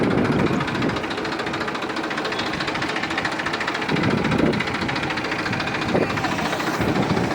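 An original-condition Massey 241 DI tractor fitted with wheel weights runs in Amreli, its diesel engine giving a steady, close, rapid knocking chug that holds throughout with slight swells in loudness and no voices.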